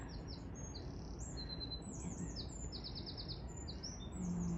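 Birds sing and chirp repeatedly in high, quick phrases over a steady outdoor background hiss.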